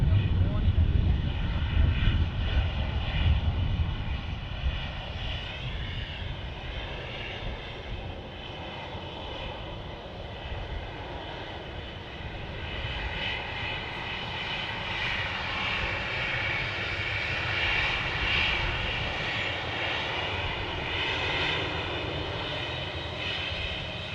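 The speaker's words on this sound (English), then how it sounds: "Just as another Ryanair taxis out." A Ryanair jet airliner taxis at Manchester Airport, its engines giving a steady, loud roar with a whining hum that swells slightly midway and holds throughout, with a voice talking early on.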